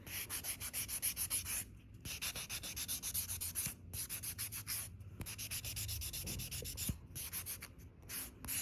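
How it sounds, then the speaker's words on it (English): A buffer rubs steadily across a gel-coated nail surface during at-home gel removal, a close, continuous scratchy sanding with brief pauses between strokes, no voices. "I'll be using this buffer, to bring back a little bit of shine, and also to just to clean out the surface"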